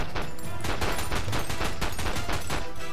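Rapid gunfire in the game Tango Fiesta, dense continuous bursts of shots rattling loudly throughout.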